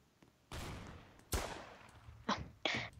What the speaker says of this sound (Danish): Der er nogen, der skyder på mig.